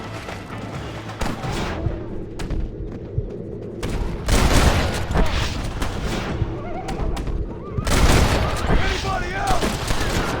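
Ambush gunfire erupts in Red Dead Redemption Remastered, with bursts of rifle and pistol shots crackling in volleys under shouted voices, heaviest in two loud clusters midway and near the end.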